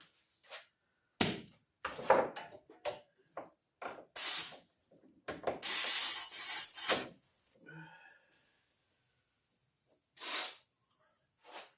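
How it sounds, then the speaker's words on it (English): An old Harbor Freight spark plug cleaner at work on the plug from a Craftsman T100 engine, giving irregular short bursts of harsh blasting hiss and rasping with brief gaps between them. "We got a spark plug cleaner from Harbor Freight."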